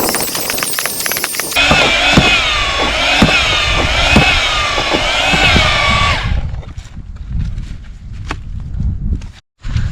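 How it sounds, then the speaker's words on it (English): A pole-extended auger bores a hole in a field, its motor roaring loud and steady with a wavering whine for about five seconds before cutting out, leaving quieter rustling and footstep-like knocks. "let's see how this auger does"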